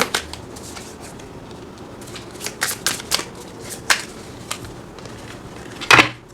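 Tarot cards from a slippery deck being shuffled, with soft riffling bursts and crisp snaps that come in irregular clusters and end in one louder flurry near the end, close and fairly clear over a quiet background.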